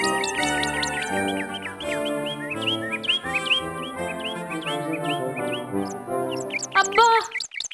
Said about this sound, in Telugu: రంగురంగుల పక్షులు ఎంత ముద్దుగా ఉన్నాయో,